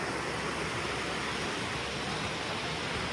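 A small, shallow wild trout creek in the backcountry: a dense, even rush of flowing water, close and steady, with no other sounds.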